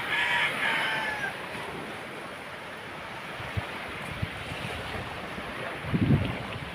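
Gentle sea waves wash onto the shore at low tide under calm conditions, a constant soft surf hiss with a few nearer splashes, heard alone with no voices.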